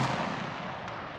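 A gunshot fired at a paper target on an outdoor shooting range, a fairly faint, sustained rumbling report heard from a distance, alone without talk.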